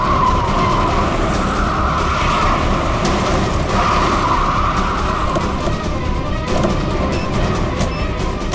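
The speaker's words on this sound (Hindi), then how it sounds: "सर गाड़ी रोक दीजिए, गाड़ी रोक दीजिए सर" A car brakes hard and skids to a stop, a loud continuous tire screech holding steady for several seconds with rumbling road noise underneath, during a tense police drama chase over a bomb planted under the vehicle.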